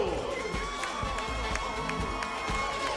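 A crowd at the Olympia fitness contest cheers and shouts with a busy, continuous roar. The sound is fairly distant, with voices and whoops mixed throughout.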